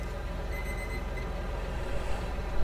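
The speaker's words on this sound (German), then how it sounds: "habt ihr Wecker gehört?" An alarm clock rings in a farming video game, a steady buzzing tone that runs continuously at moderate loudness over a dense game soundscape.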